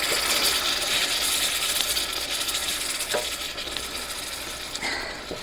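A utensil scrapes the bottom of a hot pan after pork chops are seared and apple cranberry juice is added, a sizzling hiss with repeated rough scraping strokes, close and steady.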